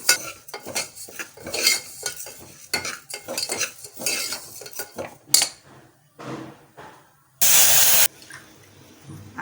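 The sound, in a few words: roasting lentils in ghee in a pressure cooker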